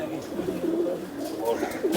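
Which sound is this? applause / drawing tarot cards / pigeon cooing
pigeon cooing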